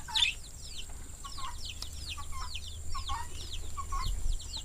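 A mother hen clucks in a rapid, repeated series of short calls at moderate distance, with steady low background rumble and no talk.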